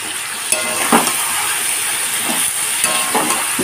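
Boiled potatoes and soybeans sizzling in oily masala over high flame, a loud continuous hiss broken by occasional stirring scrapes.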